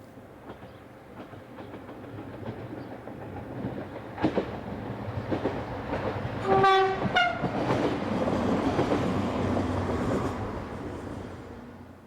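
An X73-500 single-car diesel railcar rumbles and idles nearby, sounds two short horn blasts, then pulls away north with rising engine noise and rail clatter.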